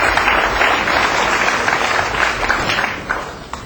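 A crowd at a table tennis final between Kuo Po Cheng and Wu Chia Ching applauds loudly with dense, sustained clapping that eases off toward the end.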